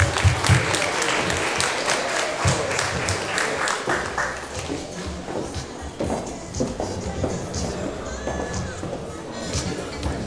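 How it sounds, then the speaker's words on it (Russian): Sustained applause from a conference audience, steady crowd clapping filling the room throughout, with faint shuffling and a few voices underneath. "и давайте похлопаем"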